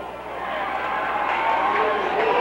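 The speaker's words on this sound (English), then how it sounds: "And listen to the crowd cheer" Crowd cheering in a gym as a high school boys basketball player cuts the net after a 1990 win, a steady roar of voices and applause swelling slightly and holding loud throughout.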